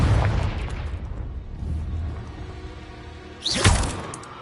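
A Confringo fire spell from Hogwarts Legacy bursts with a booming explosion, a heavy rumbling blast that fades, then a second sharp crackling impact with a bright whoosh near the end.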